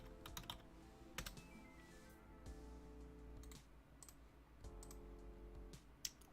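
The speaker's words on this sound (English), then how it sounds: "Hold on, I was typing something." Fingers type on a computer keyboard in bursts of close, crisp key clicks, separated by short pauses. A faint tonal hum runs underneath, with a sharp final click near the end.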